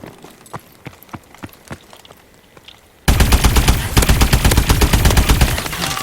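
Rapid automatic gunfire from an AE4 weapon fired from the hip in a video game; quieter spaced shots first, then a loud sustained stream of fast rounds close up.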